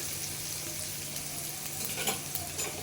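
Red amaranth leaves frying in a spiced tempering, a soft steady sizzle with light stirring scrapes near the end, faint and close with no talk.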